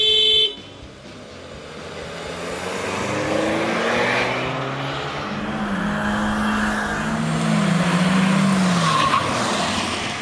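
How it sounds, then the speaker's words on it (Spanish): Honda HR-V and Kia Seltos accelerating side by side in a drag race, loud engines rising and shifting through gears with tire noise, sustained and close for about ten seconds with no talk. "En los primeros metros, la Honda HR-V logró aventajar a la Seltos"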